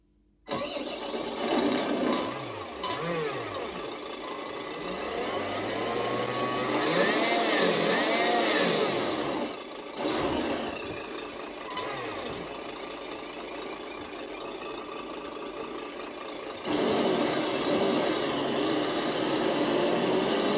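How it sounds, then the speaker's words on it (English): Sense Innovations ESS ONE sound system simulating a truck engine on an RC model: a steady rumbling diesel drone that revs up and down, with hiss-like air-brake bursts and a gear change, loud and continuous. "just to show you that that motor is actually working"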